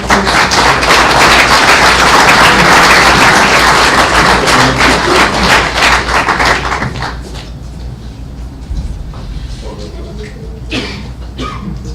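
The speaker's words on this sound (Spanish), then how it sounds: "le damos la bienvenida con un fuerte aplauso" A university lecture audience breaks into loud, dense clapping to welcome a guest speaker, the applause dying down after about seven seconds into a quieter room.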